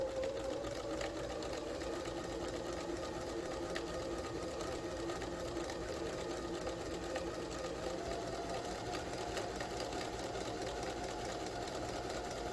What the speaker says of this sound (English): I'm going to do a back stitch and then forward